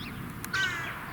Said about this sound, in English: and hear the birds chirping